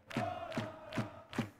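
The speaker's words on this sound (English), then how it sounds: "as you can hear, the crowd are going mental" Crowd noise from a Football Manager 2021 match, four loud rhythmic swells of chanting voices roughly every 0.4 seconds over a steady roar, like a stadium crowd chanting in unison.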